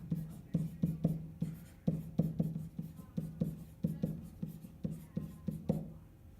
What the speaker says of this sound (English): I'm going to write that down to remind myself.